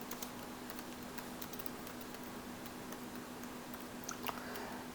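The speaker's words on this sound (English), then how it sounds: "One way I could do is just type in the data." Faint, steady tapping on a computer keyboard as numbers are typed in, a quiet run of soft key clicks over low background hum.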